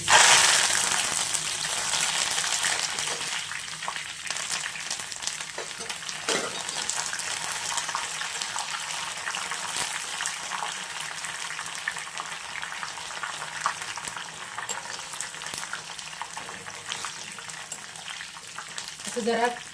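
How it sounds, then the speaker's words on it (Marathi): Curry leaves deep-frying in hot oil for chivda (a crispy spiced snack), a steady close bubbling sizzle lasting throughout with faint occasional stirring clinks, no talking. "आता कढीपत्ता तळून घेऊया."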